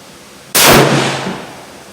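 A Seekins Havak Bravo rifle chambered in 6.5 Creedmoor fires a single loud, sharp shot nearby, and the report decays into a long fading rumble.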